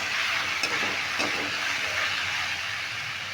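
Ash gourd with poppy seeds fries in a pan, producing a steady, close broadband hiss and sizzle with a couple of faint stirring clicks; no one speaks.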